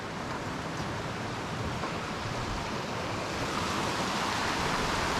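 Water of Edith Falls pours over the edge in a steady, dense rush of broadband roar. The sound is constant and fairly close, swelling slightly toward the end, with no voices.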